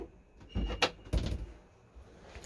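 The door of a Weinsberg Xcursion 500LT motorhome is worked with one hand: two close thuds and rattles about half a second apart, then a quieter scrape.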